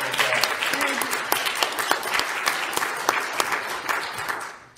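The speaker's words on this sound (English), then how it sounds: "Can you give him a round of applause?" A church congregation claps during a Sunday worship service, a dense, steady round of applause with scattered sharper claps, fading out near the end.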